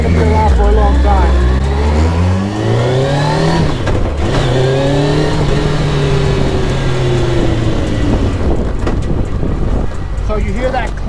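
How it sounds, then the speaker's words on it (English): A Campagna T-Rex with a sequential gearbox accelerates nearby, its engine revving up through gears with clunky shifts between rising pitch sweeps, loud and close with wind noise, and voices are heard alongside. "So you hear that clanking? That's the sequential."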